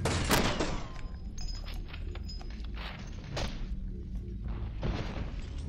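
Gunfire and a grenade blast in the first-person shooter F.E.A.R. 2: Project Origin, with a loud burst near the start followed by sustained rattling fire, thuds and repeated sharp impacts throughout.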